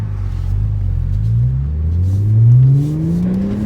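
An Audi RS4 engine, which has a boost leak and a misfire, revs up as the car shifts gears. Its deep rumble climbs steadily in pitch, loud and close from inside the car.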